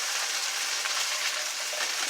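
Onions fry in a pan for a smoked turkey hash, a steady close sizzle with a faint scraping of stirring underneath.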